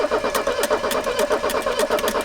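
A 1984 Mercedes 300SD turbo diesel, started for the first time in years with a suspected exhaust leak, runs with a rhythmic clattering idle, its regular knocks and chuffs repeating steadily and fairly close.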